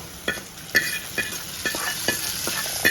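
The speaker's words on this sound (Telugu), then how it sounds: "ఇప్పుడు పోపు వేగింది కదా మనం ఈ రసంలోకి అయితే వేసేసుకుందాం పోపుని" Hot tempering (popu) poured into drumstick leaf rasam crackles and sizzles close up, with a quick series of sharp spatula taps against the pan over a bright, continuous hiss.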